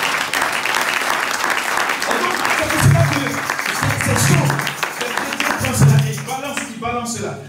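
A church congregation applauds in praise of the Lord, sustained dense clapping from a large crowd with a voice speaking over it and a few cheers rising and falling.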